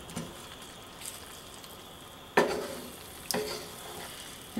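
Cottage pie filling sizzles softly in a frying pan while being stirred, a low steady hiss broken by two sharper scraping clacks of the utensil, close and fairly quiet, with nobody speaking.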